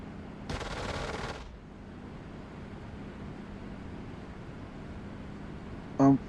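A Spitfire's wing machine guns rattle in one loud burst of about a second during a strafing run in the DCS flight game, then give way to a steady engine drone and a short tone at the end.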